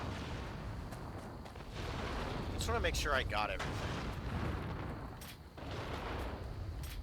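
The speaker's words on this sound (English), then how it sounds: "Oh my god, cannonballs!" Cannon fire in the video game Nioh 2 gives heavy, continuous booming and rumbling throughout, with someone talking over the barrage.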